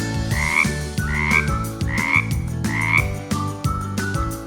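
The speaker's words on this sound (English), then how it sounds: "a croaking noise like a frog?" A toucan gives a loud, frog-like croaking call, repeated in a steady rhythm of about six rasping pulses, close and clear with no voices over it.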